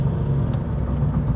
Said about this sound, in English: The only thing that's really bothering me is the engine ticking and the misfire.